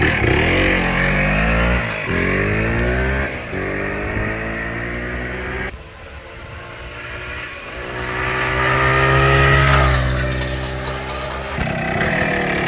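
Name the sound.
Kawasaki 350 Bighorn enduro motorcycle ride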